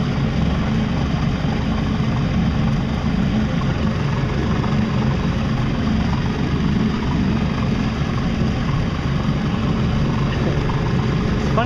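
A boat motor hums low and steady for the whole stretch, a quiet continuous drone with no talk over it.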